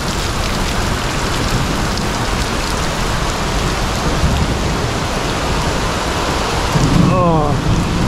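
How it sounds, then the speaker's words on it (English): Heavy rain pours down at Siam Amazing Park, a loud, dense, unbroken roar of drops on surfaces lasting throughout, swelling slightly near the end. "So it decided to rain at Siam Amazing Park."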